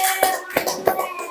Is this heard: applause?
yes